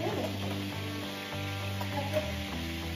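Chicken pieces fry in a pan with a soft, steady sizzle under a constant background hum, faint and even throughout.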